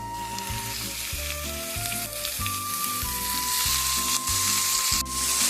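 Ground beef fries with onions in a pan, sizzling steadily and loudly up close, with occasional scraping and stirring sounds and no talking.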